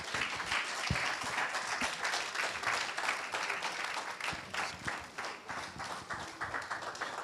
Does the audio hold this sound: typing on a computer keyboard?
no